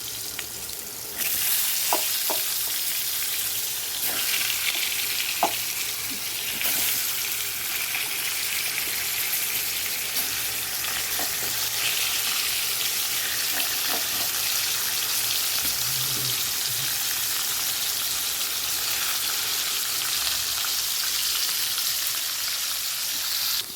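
Pointed gourds coated in salt and turmeric fry in a pan, giving a loud, continuous hissing sizzle with scattered crackles and pops throughout.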